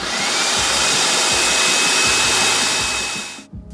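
A blender grinds cashews with water into cashew milk, a loud steady whirring motor drone with a churning low rumble that runs continuously for several seconds, then cuts off abruptly near the end.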